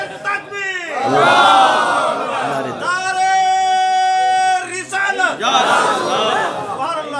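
Crowd at a religious gathering chanting slogans in unison: a leader's call followed by loud, sustained group responses, the massed voices rising and holding in rhythmic bursts, near and forceful.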